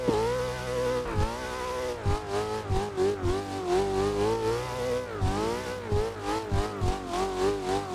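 A race car in the video game Assetto Corsa, engine revving loudly and continuously with rising and falling pitch through repeated gear shifts, steady and close with no talk.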